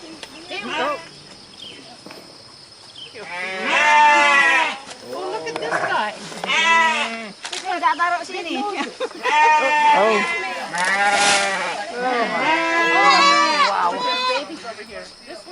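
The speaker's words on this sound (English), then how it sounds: "a bamboo pen of goats greeted us" Goats in a bamboo pen at a forest homestead in Java, Indonesia, bleat loudly and close by, their wavering cries overlapping almost continuously with only brief pauses.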